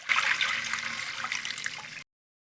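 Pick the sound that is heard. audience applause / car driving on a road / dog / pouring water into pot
pouring water into pot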